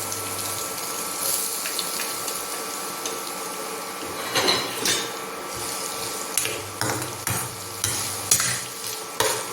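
Chopped onion is stirred in hot oil with garlic in a pan for white cream pasta. A continuous sizzle runs under repeated scraping spoon strokes that grow more pronounced midway, heard up close without talk.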